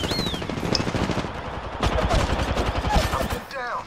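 Gunfire in Apex Legends: rapid automatic bursts of shots, loud and close, with brief pauses between volleys and scattered game effects.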